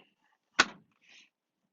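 One sharp, solid thud of a 2020 Harris Solstice 230 pontoon boat's changing room door swinging and catching on gas-pressurized shocks, followed by a faint hiss, in an otherwise quiet space.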